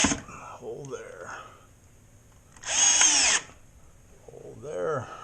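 A power drill drives screws into sheetrock and bullnose corner bead around an attic access hole, giving one loud, close whirring burst of about a second, with quieter voices before and after.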